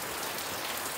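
Steady rain falling outdoors near a garden pergola with flowering plants, a dense continuous hiss of drops on surfaces, even and moderately loud throughout with no voices.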